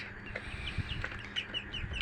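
Roosters and hens in a backyard coop at night give soft intermittent clucks and short calls over a steady low murmur, fairly close and moderately loud, with no talking.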